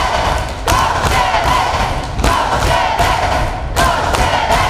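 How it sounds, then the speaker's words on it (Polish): An audience gives a loud, sustained ovation after a performance by young artists. Dense clapping and crowd noise swell in waves, with several brief dips and surges. "Po przedstawieniu młodzi artyści otrzymali gromkie brawa."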